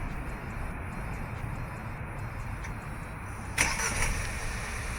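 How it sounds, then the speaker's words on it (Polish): After a few seconds of quiet hum, a Chery Tiggo 7 engine is started remotely, catching with a sudden burst of noise and then settling into a steady, fairly subdued run. "Otóż auto możemy uruchomić zdalnie."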